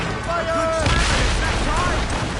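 Ship cannons fire in Assassin's Creed Rogue, dense rumbling booms rolling together over continuous battle noise, with shouted voices underneath.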